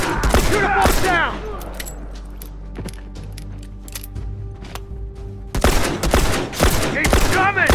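Rapid automatic gunfire in The Last of Us Remastered multiplayer comes in loud, dense bursts at the start and again near the end, with a quieter stretch of game sound between them and voices heard.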